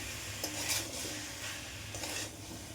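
A spoon stirring chicken stew with papaya, carrot, potato and beans in a pot, soft scraping strokes in a few slow bursts over a gentle simmer.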